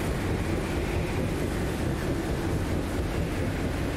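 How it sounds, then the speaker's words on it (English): Strong wind gusts in the Guardians of the Galaxy video game make a steady, loud, low roar that fills the whole stretch without pause, and nobody speaks over it. "Your feeble body can overpower such tremendous gusts!"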